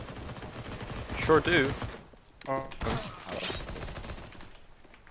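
AK rifle gunfire in a video game, heard as loud bursts of rapid shots with clattering impacts, mixed with voices talking over the action.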